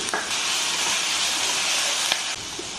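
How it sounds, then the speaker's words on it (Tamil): Tomatoes sautéing in a hot pan for a vegetable puff filling, a steady close sizzling hiss that runs unbroken before cutting off near the end. "தக்காளி கொஞ்சம் 2 நிமிஷம் சாட்டே ஆகட்டும்"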